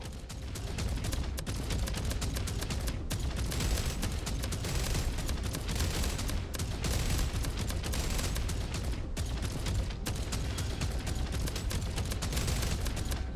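Sustained, dense gunfire from spaceship weapons in the game Jump Ship, with a continuous loud rattle of rapid shots and heavy low rumble and no pauses throughout.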